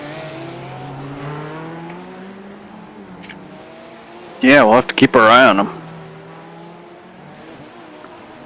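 GT3 race cars in a sprint series race at the Long Beach street circuit drone past under steady commentary, and one car screams close by with a loud, rising engine note for about a second before fading.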